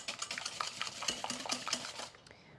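A whisk clinks rapidly against a bowl while beating pumpkin pie filling with brown sugar, a close, quick, rhythmic scraping and tapping that stops abruptly near the end, with no talk.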